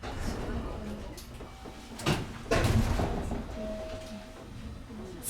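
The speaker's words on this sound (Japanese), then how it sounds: "車両のドアを閉めてからホームドアを閉めます。" Train doors then platform screen doors slide shut on a Fukuoka City Subway Airport Line/JR Chikuhi Line 103 series 1500 train, with a couple of thumps and a rushing slide partway through, amid station background noise and faint tones.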